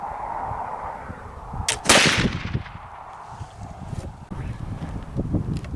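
A single sharp crack from a black powder rifle fired outdoors with homemade mesquite-based powder, loud and close, with a short ringing decay, set against outdoor background noise and some rustling.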